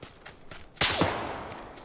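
A single close, sharp gunshot cracks out in PUBG Battlegrounds, followed by a long reverberant tail and softer distant shots before and after.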